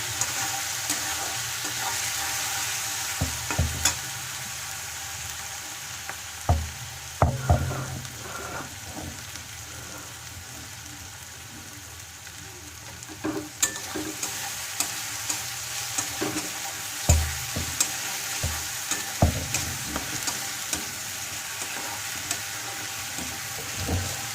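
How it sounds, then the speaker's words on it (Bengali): Onion frying in a pan until reddish brown, a steady close sizzle broken by repeated scraping and stirring knocks of a utensil, growing busier toward the end; no one speaks. "দেখো আমার লাল লাল করে ভাজা হয়ে গেছে পেঁয়াজটা"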